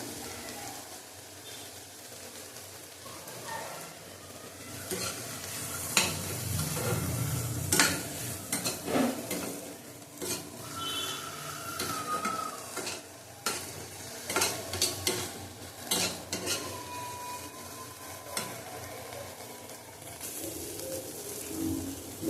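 Bottle gourd peel with turmeric and salt frying in a pan, with a soft continuous sizzle broken by repeated spatula stirs and scrapes over about twenty seconds, close and moderately quiet.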